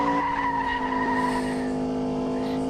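A car in a driving video game hums with a steady, sustained engine tone, with a brief hint of tire squeal, loud and close without any talking.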